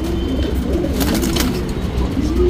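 A racing pigeon kept for flying tournaments coos steadily in low, rolling calls that stay close and continuous over constant background noise, with a few faint chirps and no talking.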